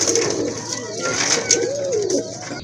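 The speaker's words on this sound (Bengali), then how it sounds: "কবুতরের ডাক" Pigeons coo close by, several rolling, throaty calls one after another, with a little background noise and a brief murmur of other sound.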